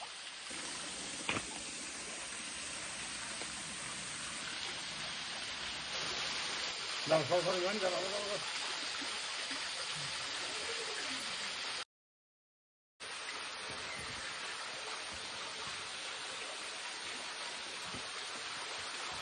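Dharagiri waterfall at Ghatshila, Jharkhand, roaring as a steady broadband rush of falling water close by, with a brief voice and a short break partway through.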